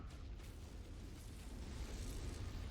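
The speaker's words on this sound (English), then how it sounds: "it's exploding" A MechWarrior explosion, a sustained low roaring blast and rumble that fills the clip evenly without letting up, loud and with no talk.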